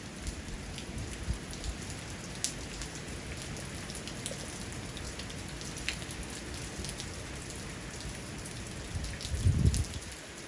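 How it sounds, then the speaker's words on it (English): Steady rain pours during Hurricane Delta at landfall in Louisiana, a dense continuous hiss of drops on surfaces with a brief louder gust or rumble near the end. "Rain, rain, rain,"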